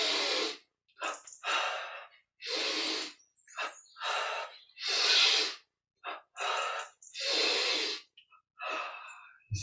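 Deep, forceful breaths during a Yogoda breathing and tension-relaxation exercise: about a dozen loud, airy rushes of breath in an uneven rhythm, each a second or so long, close to the mic with short silent gaps between.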